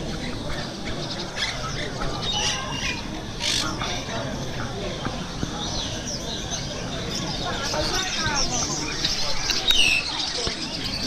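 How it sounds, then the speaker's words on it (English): Pet birds at a bird market in Xi'an, China, giving many overlapping chirps, tweets and squawks over busy crowd chatter, with people talking nearby throughout. "And so you have here a market for birds."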